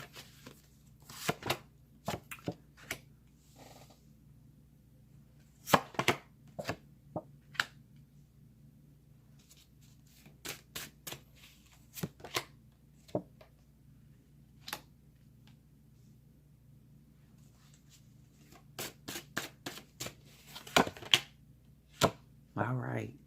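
Tarot cards are shuffled and handled in scattered bursts of crisp flicking and tapping, close and fairly quiet, with speech between the bursts.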